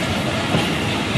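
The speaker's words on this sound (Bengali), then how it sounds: "অবশেষে আমরা মোংলা রেল স্টেশনে পৌঁছে গেলাম" A train rolls into Mongla railway station on the Khulna to Mongla line, a loud, steady rumble of wheels and carriages close by, with no voices over it.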